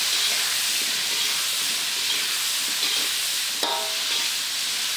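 Green chili tipped into a hot pan for Sundanese basengek with salted fish, giving a steady frying sizzle and hiss throughout, with one brief sharper crackle near the end as the ingredients are stirred.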